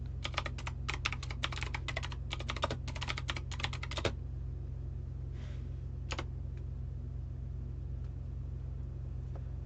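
Quick bursts of keystrokes on a computer keyboard, clattering rapidly for about four seconds, then pausing before one short final flurry, over a constant low background hum.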